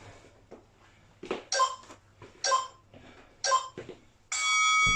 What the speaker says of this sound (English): Good guys, we've got 10 seconds. Keep them going to the bell.